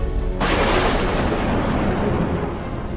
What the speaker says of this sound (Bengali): বাইরে ততক্ষণে বৃষ্টি শুরু হয়েছে, মাঝে মাঝে জোরে জোরে বাজ পড়ছে।